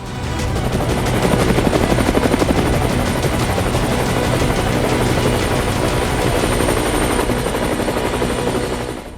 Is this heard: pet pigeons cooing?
no